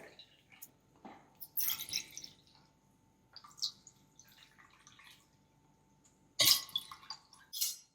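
Water is poured and trickles in short, intermittent splashes for making ragi malt, with quiet pauses between the bursts.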